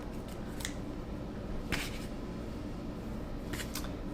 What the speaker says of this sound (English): I'm just gonna trim a little bit off.